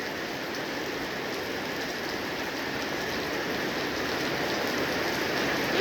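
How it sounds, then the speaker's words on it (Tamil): Heavy rain pours down in a village, a dense, constant roaring hiss that holds steady and grows slightly louder toward the end, with no voices. "நல்ல மழை வருதுங்க இன்னைக்கு."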